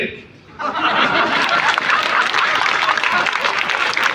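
A crowd at a Hindi comic poetry gathering breaks into loud, sustained applause mixed with laughter and chuckles, swelling abruptly after a brief quiet moment.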